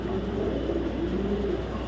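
A racing pigeon coos in soft, low, rolling phrases close by, set against a steady broadband background hum, with no talking.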